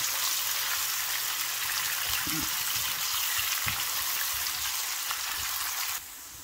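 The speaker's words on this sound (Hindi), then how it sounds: "थोड़ा सा ब्राउन होने तक हमने इसको फ्राई कर लेना है, कुक कर लेना है इस तरह से" Onions fry in a pan for a chana dal palak dish until lightly browned, making a loud, continuous close-up sizzling hiss. A few soft clatters come through before it drops slightly quieter near the end.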